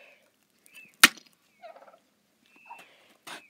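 A pet turkey at its coop gives a few short, separate gobbling calls with clucky bursts between them, close and clear against near silence, with one sharp knock partway through.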